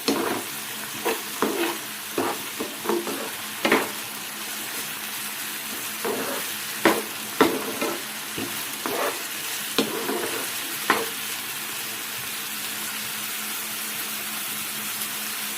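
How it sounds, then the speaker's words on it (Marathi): Onions and ginger-garlic paste fry and sizzle in a pan for paneer lababdar, a steady hiss broken by repeated sharp clatters of stirring, close up and without talking. "नंतर यामध्ये 1 टेबलस्पून आले लसणाची पेस्ट 1 ते 2 मिनिटांसाठी चांगली फ्राय करायचे।"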